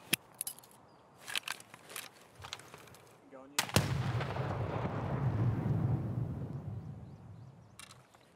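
A grenade blast in Escape from Tarkov lands with a sudden loud boom partway through, then a long rumbling, crackling tail that stays heavy for several seconds, preceded by scattered sharp gunfire-like clicks and thuds.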